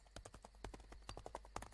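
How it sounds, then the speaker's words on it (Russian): Horses' hooves as horses ride up to a porch, an audiobook sound effect: a rapid, uneven run of sharp clip-clop strikes, fairly close but quiet, with no voices. "Кони подлетели к крыльцу"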